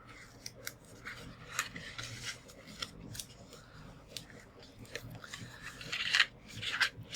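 Paper cardstock notepad holder being folded and creased by hand, with soft rustles and a few sharper crisp scrapes and snips, faint and close.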